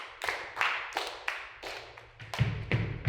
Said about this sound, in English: They add foot stomps.